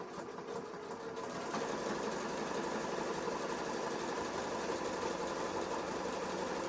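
A sewing machine stitches a lettuce hem with a fast, steady mechanical hum and rattle, running continuously at moderate volume with no talking.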